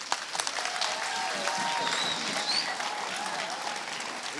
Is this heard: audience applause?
yes